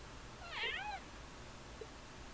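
A single short cat meow with a rising then falling pitch, clear but quiet over a low background hum, followed by a tiny chirp in Trails of Cold Steel.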